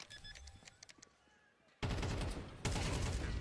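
Gunfire in a Counter-Strike esports grand final match, loud bursts of shots arriving in two surges after a quieter stretch with faint game sounds, under a caster's voice.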